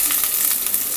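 Curry leaves and onion hitting hot oil in a pan, a steady bright sizzle that stays loud and even for about a second, with no voices.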